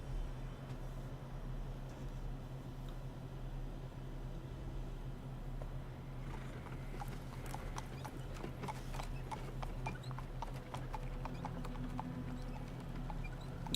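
Horses' hooves clip-clop steadily at a rest station for changing horses in the video game Black Book, with an occasional whinny and a low ambient hum beneath, growing busier in the second half.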